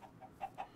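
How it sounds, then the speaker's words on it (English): Chickens cluck in a Minecraft game, a short run of about five soft, evenly spaced blocky clucks with no talk over them. "And chickens!"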